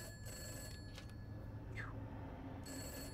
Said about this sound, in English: And there's a phone ringing.